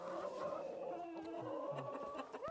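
Chickens cluck and murmur in deep snow in Upper Michigan. The soft, overlapping calls from several birds continue steadily at a low, close level, with no talking.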